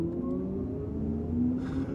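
An Audi RS e-tron GT Performance electric car accelerating hard in boost mode, heard from inside as a steady, rising motor whine over low road rumble, with a brief shift in tone near the end.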